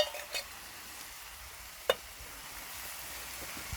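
Chopped tomatoes from a tin hiss and sizzle in a hot pan over an outdoor woodland fire, a steady close frying crackle with a few sharp clicks of stirring.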